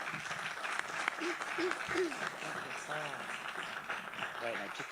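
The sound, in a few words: audience applause for the professors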